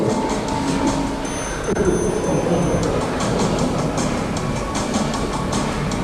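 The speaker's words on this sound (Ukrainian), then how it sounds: "Другий трамвай." A tram rumbles past close by on its rails, with a steady metallic rolling roar, rhythmic wheel clicks and a brief high squeal.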